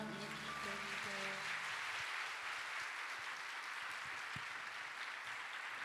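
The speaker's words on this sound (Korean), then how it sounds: "여러분 계속해서 큰 박수를 좀 보내드리시죠." A congregation at a church youth service breaks into sustained applause as closing music fades out, the clapping continuing loud and even to the end.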